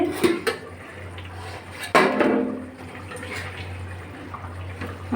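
A pressure cooker lid comes off with sharp metallic clinks and scrapes against the pot while cooking a fig-based vegetarian curry, two distinct clatters standing out over a low steady kitchen hum.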